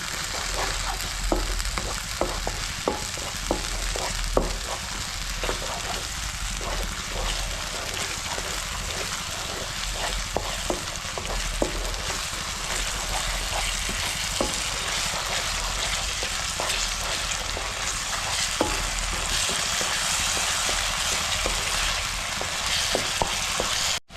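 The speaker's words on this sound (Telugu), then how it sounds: "ఇది పచ్చి వాసన పోయే వరకు వేగాలమ్మా." Ginger garlic paste fries in a pan until its raw smell goes, a loud continuous sizzle close by with scattered light clicks of stirring throughout.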